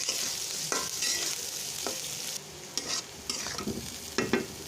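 Onions and chillies fry in oil in a pan with a bright continuous sizzle, interrupted by a spoon scraping and knocking against the pan several times, close by, with no talking.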